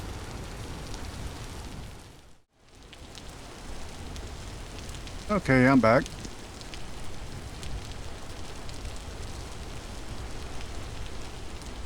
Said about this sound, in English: just listening to the rain